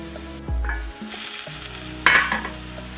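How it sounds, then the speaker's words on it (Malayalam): Salted Bombay frankie filling sizzles in a pan while a spoon stirs it in a couple of scraping passes and clinks against the metal, close and clear with no speech. "കുറച്ച് ഉപ്പിട്ടിട്ട് അതിനെ ഒന്ന് ഇളക്കി കൊടുക്കാം"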